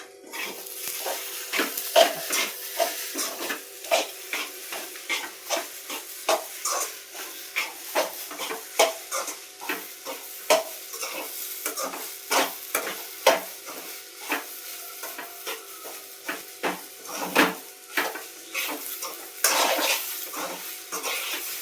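Rice being stirred in a pot, a long run of rhythmic wet scraping strokes close up over a soft bubbling hiss, steady throughout.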